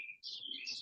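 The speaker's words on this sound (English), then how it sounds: "Listen to the birds" Birds chirping and singing in a quick run of bright, high tweets, heard alone at a moderate distance against a quiet outdoor background.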